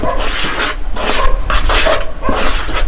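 Dry ingredients for a Jamaican black Christmas fruit cake get mixed in a bowl, repeated scraping and rasping strokes with light clinks of utensil against the dish, close and steady.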